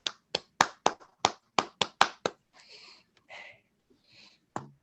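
After a talk on smallholder farming in Haiti, a few people clap in about nine separate, crisp claps, then faint rustling and a last clap follow.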